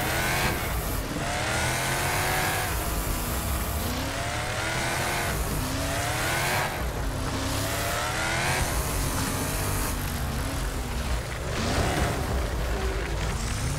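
Race cars in the Wreckfest video game roar continuously, with engines revving and shifting pitch, tires squealing and other cars passing close, loud throughout with no talk.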